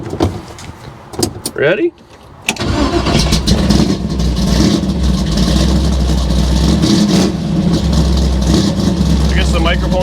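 A 1964 Chevy II gasser cranks over with a whine, fires, and settles into a loud, deep, lopey idle that rumbles on close by, while a voice speaks briefly at the start.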